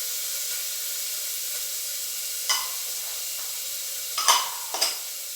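Garlic, ginger and green chilies sautéing in a pan, a soft steady sizzle with a few short louder scrapes of stirring near the end, no voices.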